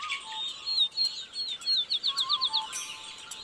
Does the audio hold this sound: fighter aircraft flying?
no